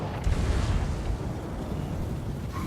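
A Chaos Dwarf Hell Cannon firing in a Warhammer 2 battle between Lizardmen and Chaos, heard as a heavy booming blast that rolls into a sustained rumbling roar of battle, loud and without speech.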